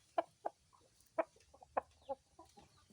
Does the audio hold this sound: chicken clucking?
yes